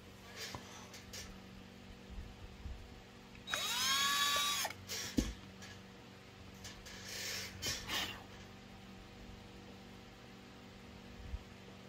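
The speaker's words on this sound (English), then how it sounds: "I'm not going in very far with this drill bit. It's a real tiny drill bit." A tiny drill bit bores shallow holes into a wooden scroll saw basket, a short whining burst of about a second near the midpoint, with brief lighter touches of the drill after it over a quiet workshop background.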